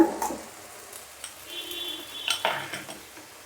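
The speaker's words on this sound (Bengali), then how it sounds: "সবগুলো উপকরণ ব্রাউন করে ভেজে নিব।" Ginger-garlic and nut paste frying in a pan for chicken roast, with a gentle sizzle under scraping and clinking as a spoon stirs against the pan, fairly quiet and close.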